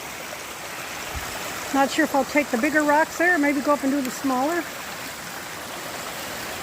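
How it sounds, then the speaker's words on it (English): A stream runs over rocks on the Appalachian Trail as a steady, soft rushing wash of water. Someone talks close by over it in the middle of the stretch. "But it's a nice stream."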